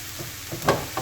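Garlic and onion fry in hot oil in a pan, a soft steady sizzle close by with a few brief louder crackles.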